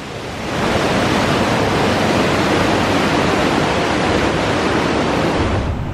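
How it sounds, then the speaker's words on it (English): Theme-park waterfalls at Heide Park, near a mountain rafting boat ride, pour with a loud, steady roaring rush of water that rises quickly and holds constant and close, with no talking. "Waterfalls are on like that."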